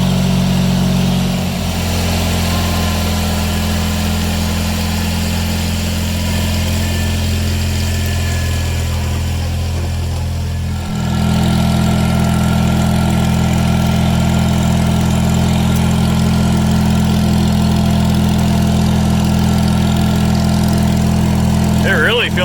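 A Bolens QT16 garden tractor engine runs steadily and loudly close by, a constant low droning idle with a brief dip in level partway through before settling back to the same even rumble.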